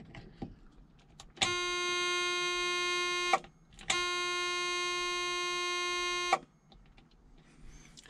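Inside the cab of a Peterbilt 359 dump truck with the ignition on, the dump bed alarm buzzer sounds two steady, harsh tones, each lasting about two to three seconds with a short gap between them, over quiet background noise.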